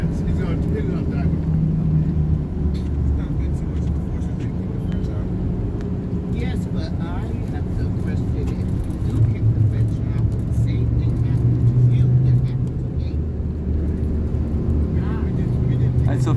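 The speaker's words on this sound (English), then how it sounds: "So family driving around Independence Square in Dakar, Senegal." Car engine hum and road rumble while driving around Independence Square in Dakar, Senegal, steady and low throughout, with people talking over it.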